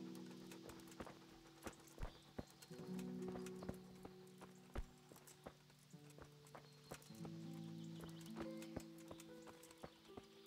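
Horse hooves clip-clopping in a steady walking rhythm in the video game Kingdom Come: Deliverance, with a musical drone underneath and no talking.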